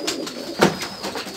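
Pigeons coo softly at close range during flight training, a few short throaty coos over a quiet background.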